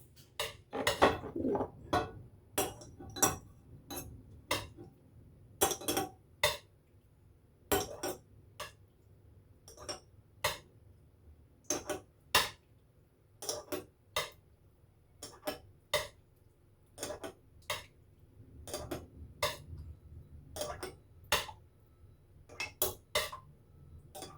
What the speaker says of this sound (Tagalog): At dahil malamig na yung ating garlic na niluto, lalagay na natin sa garapon.